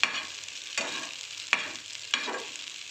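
Spicy idli fry is mixed in a pan on a low flame, four evenly spaced scraping strokes of a spatula over a soft continuous sizzle, close and alone.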